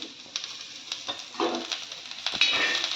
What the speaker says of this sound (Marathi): हे मटेरियल मी छान भाजून घेते